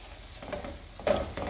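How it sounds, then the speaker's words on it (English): Paste and onion frying in a pan, a steady soft sizzle with stirring scrapes and a louder burst near the end, close up. "frying up the paste with the onion"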